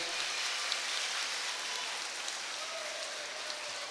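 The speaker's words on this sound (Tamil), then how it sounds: "நம்ம முதல்வர் அவர்களுக்கு ஒரு பெரிய கைத்தட்டல் நீங்கள் கொடுக்கணும்" Audience at a school annual day event giving sustained applause for the principal, a steady dense wash of many hands clapping at moderate distance, fairly even throughout without breaks.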